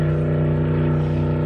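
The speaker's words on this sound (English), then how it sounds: "the boat's going by" A loud motorboat engine drones steadily nearby with a deep, constant hum and no letup.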